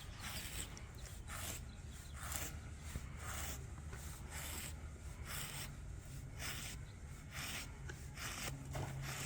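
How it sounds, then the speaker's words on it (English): Faint rhythmic bristly rubbing as a brush works through a horse's mane, repeated strokes about every second, soft and close with no talk. "Make sure you brush it until it's nice and groomed, not knotted."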